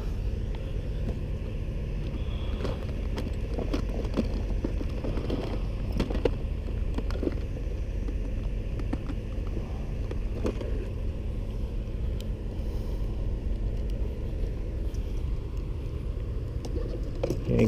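A TFL Zonda ready-to-run RC speedboat with a 36 mm motor runs out on the water, giving a continuous distant motor whine and rumble over steady outdoor background noise.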